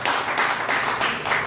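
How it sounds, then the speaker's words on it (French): An audience applauding at a musician's press conference, a brief burst of dense, loud hand clapping with several distinct louder surges, and no talk over it. "Quand c'est bien, on apprécie, on applaudit."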